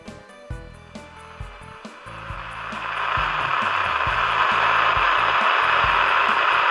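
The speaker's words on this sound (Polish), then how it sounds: "Przy odłączonej antenie filtr ANL powinien dawać zmianę szumu w radiotelefonie." A CB radio speaker hisses with static while its antenna is disconnected, at first broken by a few clicks and pulses, then rising into a loud, steady wash of noise.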